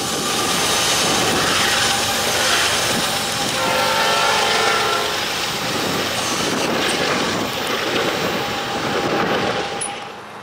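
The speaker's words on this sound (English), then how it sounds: "here comes our third NS train of the day" A Norfolk Southern freight train rolls past at a railfest in Fostoria, a loud steady rumble with clattering wheels and a broad roar that holds for the whole stretch before easing slightly at the end.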